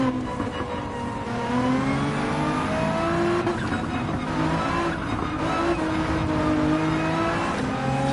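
Race car engine in Gran Turismo 7 at Grand Valley, loud and continuous, revving up and down through gear changes with rising and falling pitch sweeps, faint tire squeal mixed in, no talking.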